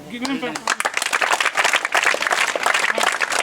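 An audience in a hall claps, a brisk patter of many hands that builds quickly and holds fairly loud. A voice speaks at the very start before the clapping takes over.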